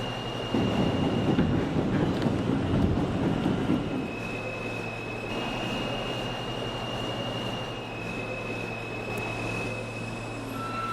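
A New York subway Q train runs on the rails, a loud rumbling roll with a burst of rattling clatter early on, then a steadier hum as the car travels, with a faint high tone and no voices.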